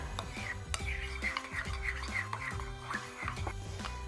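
Two tablespoons of Dijon and one of whole grain mustard are stirred together with a utensil, giving soft scraping and light clinks against a bowl in an irregular rhythm.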